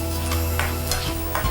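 Sliced shallots fry in pure coconut oil with a steady close sizzle, broken by a few soft scraping stirs of the pan.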